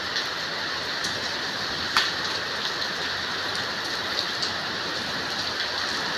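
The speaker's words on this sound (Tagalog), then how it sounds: "Sobrang lakas ng ulan" Heavy rain pours down in a dense, steady hiss of drops drumming on surfaces, with a few sharper splashes standing out close by.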